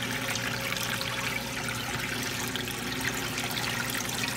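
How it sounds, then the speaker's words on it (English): Water trickles steadily and softly, a gentle continuous babble with no voices, like a small stream running close by. "I'm kind of actually enjoying the little trickle of the water."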